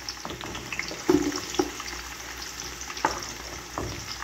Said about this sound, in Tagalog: gisa-gisa muna yung bawang. Ayan, ang sibuyas.